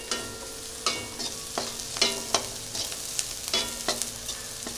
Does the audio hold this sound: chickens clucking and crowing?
no